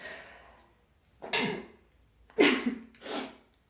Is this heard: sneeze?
yes